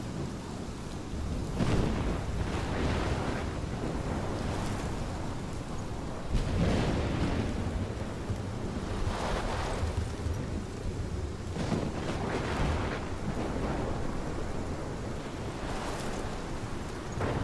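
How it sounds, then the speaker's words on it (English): Heavy thunderstorm in the Life is Strange video game, with dense steady rain and several rolling thunder rumbles and cracks breaking through at intervals, loud and close, with no voices. "This is my storm."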